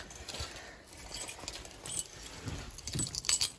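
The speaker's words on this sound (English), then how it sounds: "let me get the keys in my pocket really quick" Keys jangle softly and irregularly as they are handled and pushed into a pocket, in several short metallic bursts close to the microphone amid faint rustling.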